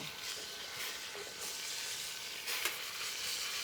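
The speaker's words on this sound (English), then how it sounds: "Lamb's got a nice sear to it." Lamb sears in a hot pan with a steady, fairly quiet hiss and crackle, plus a couple of brief louder spatters near the middle, heard alone without talk.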